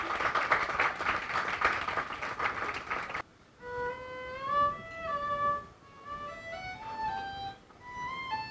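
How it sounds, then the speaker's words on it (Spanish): Applause at a Tuesday poetry-and-sangria evening in a Spanish venue, a dense burst of clapping for about three seconds that cuts off abruptly, followed by sustained tonal music. "Un aplauso para Priscila Gómez."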